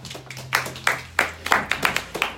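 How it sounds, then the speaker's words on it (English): An audience claps for a volunteer during a sales mindset talk. The claps are scattered, sharp and fairly close, with separate bursts in an uneven rhythm rather than a dense roar. "Give Ron a round of applause."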